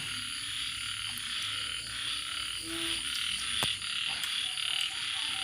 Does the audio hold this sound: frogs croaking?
yes